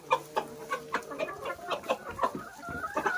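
Backyard chickens cluck steadily while feeding in snow, a close run of short, regular clucks and soft throaty calls from several hens at once, with no talking.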